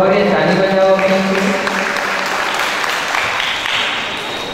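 Audience clapping during a religious discourse session with Jain monks, rewarding a correct answer; broad, steady clapping that starts over a lingering tonal voice and gradually tapers off.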